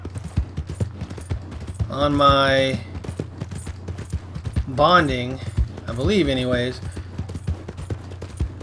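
Horse hooves clip-clop steadily in Red Dead Redemption 2 as the horse is ridden back toward camp, a close, regular rhythm of sharp taps that runs under a voice talking over most of the stretch.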